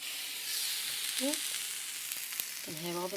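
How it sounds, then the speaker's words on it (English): Steady hiss of food frying in a hot pan, a continuous crackling sizzle with a few brief tonal squeaks over it. "can hear all the sizzling"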